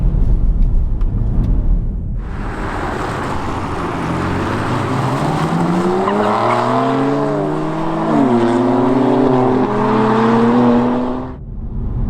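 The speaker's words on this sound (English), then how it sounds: "ALPINA B4 S, which I'm driving at the moment, and BMW M4 competition pack that's in front of me" Alpina B4 S and BMW M4 Competition Package driving together, engine note rising and falling through gear changes as the cars accelerate, a loud close whine and rumble heard from inside the cabin with no talking.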